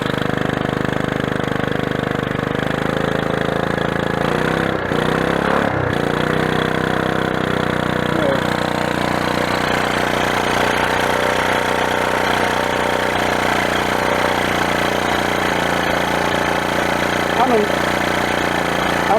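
An engine from a 1981 Honda CT110 barn-find motorcycle runs and idles close by, with a steady mid-pitched chug that stays loud throughout, broken by a couple of brief dips early on.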